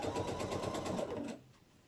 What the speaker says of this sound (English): you're going to pop it back in the machine, and you're going to stitch on down to the next corner.